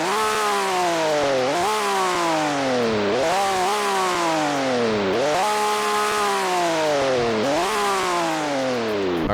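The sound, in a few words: car engine idling with dual exhaust in Roblox video game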